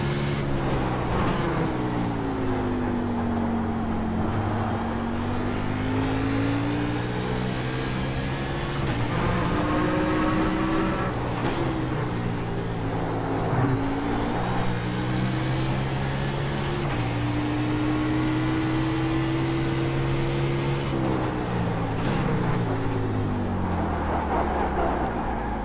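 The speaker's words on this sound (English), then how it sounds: "you can hopefully have heard that with the wheel hop I was getting" A Trans Am Xfinity stock car in a racing video game at Laguna Seca, with a steady droning engine whose pitch rises and falls through gear changes, and brief juddering as the wheels hop under braking.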